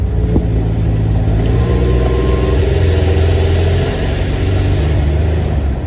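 A Buick Grand National's engine drones steadily and close while driving on the road, a continuous low rumble with slight swells and no talking.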